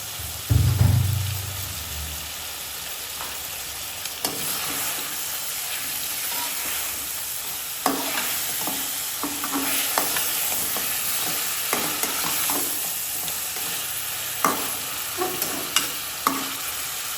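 Ritha fish frying in a cooked spice masala for fish curry, a steady hiss of sizzling oil with occasional scrapes and taps of a spatula against the pan.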